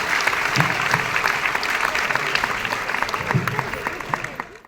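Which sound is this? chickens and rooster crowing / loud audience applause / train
loud audience applause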